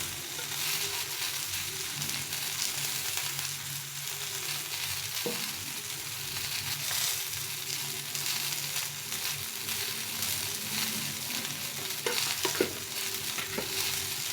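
Ground coriander, chili and ginger paste frying in a pan, a dense, continuous hiss and sizzle that stays loud throughout, with a few faint knocks of a spoon.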